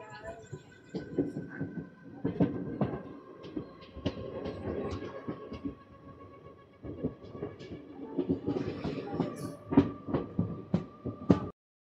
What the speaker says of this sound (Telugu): చీపురుపల్లి నుంచి అయితే స్టార్ట్ అయిపోయింది మా ట్రైన్